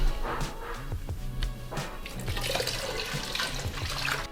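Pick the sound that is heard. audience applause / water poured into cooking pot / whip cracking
water poured into cooking pot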